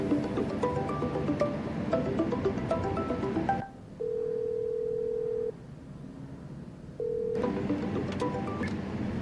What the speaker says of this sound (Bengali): শুভ্রকে ফোন কর না।